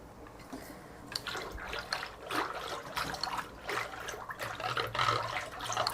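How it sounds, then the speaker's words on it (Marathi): Water poured into a bowl of whisked curd while making buttermilk, a soft, steady splashing trickle that swells and recedes in pulses over several seconds, close by with no talk. "आणि आता त्याच्यात पाणी घालते।"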